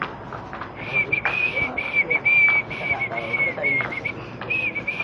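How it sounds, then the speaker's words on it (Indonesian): A person whistles a steady, high tune in short repeated phrases, fairly close, with faint background noise underneath. "Aku lo cuman siulan"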